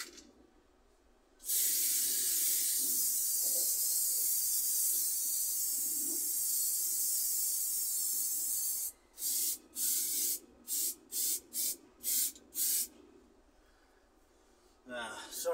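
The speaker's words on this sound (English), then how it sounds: "you should have short control bursts with the spray can" Aerosol spray can applying rust protector to rusty seat rails and panels, giving a long continuous hiss of several seconds, then a string of short sharp bursts, close and loud, with faint talk underneath.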